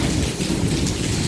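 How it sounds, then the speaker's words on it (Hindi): Dense, steady patter of hailstones striking a surface, loud and close, blended with a continuous rush of rain and wind. "ये ओलों की आवाज़ है"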